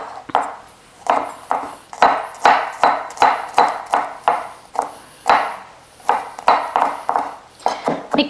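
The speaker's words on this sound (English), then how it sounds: "we cut the garlic finely, just chop it finely" Garlic cloves chopped finely with a knife on a board for spring roll filling, a fast run of sharp, close knocks in an uneven rhythm with short pauses, loud and alone.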